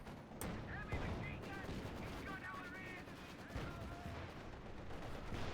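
An artillery barrage in Company of Heroes crashes in a busy mix of loud blasts and rattling gunfire bursts, with commentators talking over the rolling battle noise.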